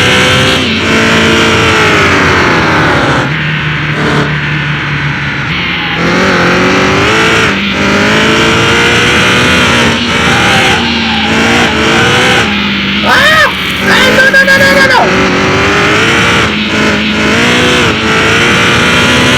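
Two heavily modified cars, a 1200 HP Dodge Viper and a 1230 HP Chevrolet Corvette C8 Zora on semi-slick tires, roar as they accelerate hard, the engine note climbing through the gears and staying loud and close throughout.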